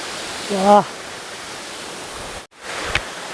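Steady broadband rush of water at Sirki waterfall, continuous and fairly loud throughout, briefly cut out near the end, with a short voice heard early on.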